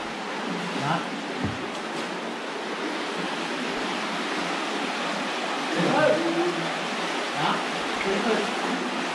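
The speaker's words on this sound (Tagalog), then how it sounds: "Ang linaw ng umaagos na tubig sa loob." Clear water rushes steadily inside a dark cave along a river in Cagayan, a dense, even wash of flowing noise with no breaks, heard close and fairly loud.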